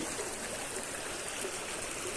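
Polluted stream flowing into the Kaveri river near Erode, a continuous broadband rush of moving water, steady and fairly close, with no voices.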